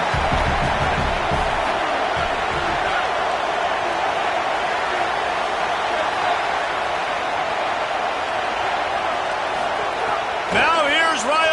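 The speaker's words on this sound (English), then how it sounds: "The roar of the crowd trying to fuel this defense to keep them pinned in their own end." A football stadium crowd roars for the home defense during an Oregon vs Vanderbilt game, a loud, continuous wall of cheering that barely varies, with a low thump near the start and a brief voice near the end.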